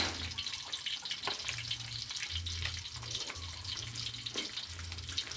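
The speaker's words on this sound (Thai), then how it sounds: "ทอดปลาเนี่ยนี่นะ" A fish full of roe fries in hot oil until crisp, giving a steady, quiet crackle and sizzle with faint low hum patches in the background.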